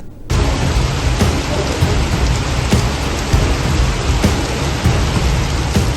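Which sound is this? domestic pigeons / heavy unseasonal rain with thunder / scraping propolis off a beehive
heavy unseasonal rain with thunder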